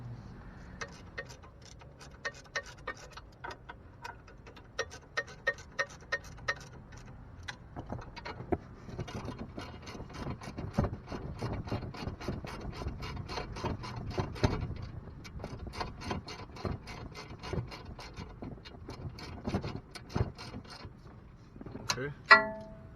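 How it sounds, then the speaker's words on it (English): Socket ratchet tightening the sway bar end links on an Audi B6 A4/S4: rapid, close metallic clicking in repeated bursts over a low background hum, with a few louder clanks of tools near the end. "I'm gonna tighten my sway bar end links on this side."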